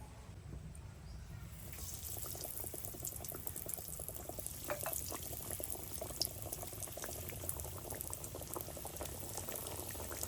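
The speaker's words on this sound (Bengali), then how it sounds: "তো এগুলো আমি একদম ডুবো তেলে ভেজে নিচ্ছি" Chicken nuggets bubble steadily while deep frying in hot rice bran oil, a soft continuous crackling boil heard faintly from close by.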